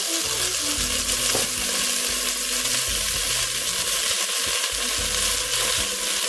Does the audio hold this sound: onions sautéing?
yes